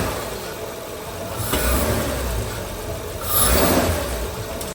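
A 2005 Honda Odyssey engine with worn-out motor mounts runs steadily up close, its low rumbling drone swelling twice in brief surges before settling back, with no voices.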